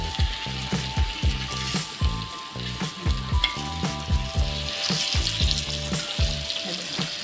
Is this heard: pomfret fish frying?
yes